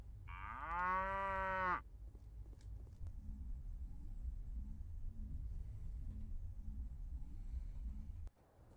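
A cow in the Mass Effect video game gives one long loud moo that rises and falls, close and clear, followed by several seconds of a low rumbling hum with faint ambient noise.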